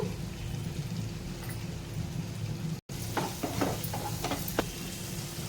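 Ginger, garlic and coconut paste with a little chili powder sizzling in a pan for a potato tomato curry, a steady close frying hiss with brief crackles and spatters toward the end, no talk.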